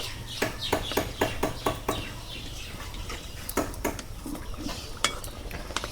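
Oil pitha cakes made with flour, semolina and mango fry in a pan. A spatula taps and scrapes the pan in a quick rhythmic series of clinks over a soft, low sizzle.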